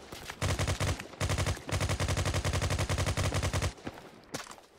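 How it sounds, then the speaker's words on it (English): Loud automatic gunfire from the video game Malhone One comes in three rapid bursts of sharp, evenly spaced shots, close and harsh, with brief gaps between bursts. "The gun noise is really incredibly loud as well."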